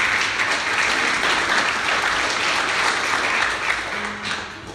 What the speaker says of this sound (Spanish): Denle un aplauso al Cristo maravilloso.